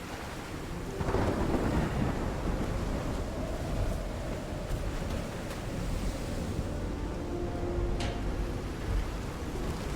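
A thunderstorm in Call of the Sea, with low rumbling thunder rolling over steady rain, wind and surf, a sharp crack near the end, no voices.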